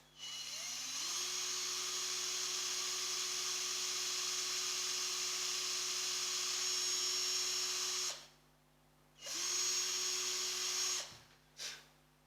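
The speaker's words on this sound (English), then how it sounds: "okay, so I'll drill the first two holes" A high-pitched electric drill whines steadily for about eight seconds while drilling screw holes in a cigar box guitar, stops, then runs again in two shorter bursts.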